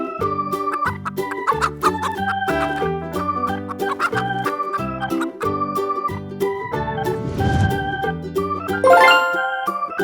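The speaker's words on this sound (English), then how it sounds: "chicken," A farmyard chicken clucks amid a bright, steady children's music backing, the bird's short calls mixed in with tuneful notes and a brief rising flourish near the end.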